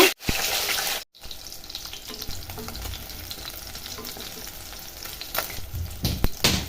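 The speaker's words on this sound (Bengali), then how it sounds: "এবার আমি বাকি মাছগুলো ভেজে নিব।" Katla fish pieces frying in hot oil, a steady close sizzle with stirring and a few louder spatters, broken briefly by a moment of silence.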